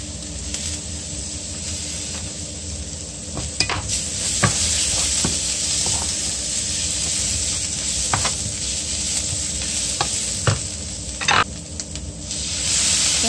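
Thinly sliced leek rings and garlic sautéing in a pan, with a continuous loud sizzle and hiss and occasional clicks and scrapes of stirring throughout.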